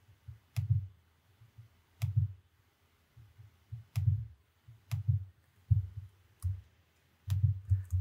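Sharp, isolated clicks from a computer mouse during vector path editing in design software, spaced irregularly about once a second over low thumping background bumps, close and fairly quiet with no talk.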